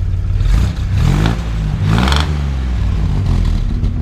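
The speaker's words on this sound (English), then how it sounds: "Go ahead and rev it up there a little bit." A 1959 Chevrolet Model 1305 truck engine with dual exhaust and split headers rumbles loudly close by, revving up in a couple of surges and dropping back to a throaty idle between them.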